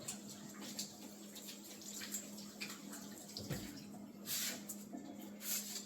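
Potatoes being washed under a running tap give a steady, soft splashing and trickle of water, close by, with louder gushes near the end and a low background hum.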